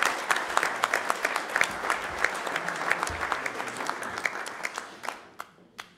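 A modest audience at a literary prize ceremony applauds, distinct claps forming a light, uneven patter that thins out and fades toward the end.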